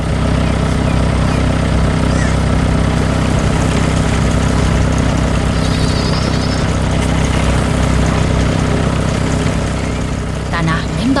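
A yellow agricultural machine working the soil on a farm, its engine droning loud and steady throughout, with a busy mechanical clatter over it.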